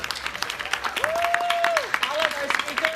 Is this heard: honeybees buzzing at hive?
no